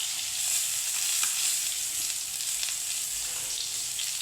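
Potatoes with turmeric and a little salt fry in a pan for an Indian fish curry, giving a dense, even, close sizzle that holds steady throughout, with no voices.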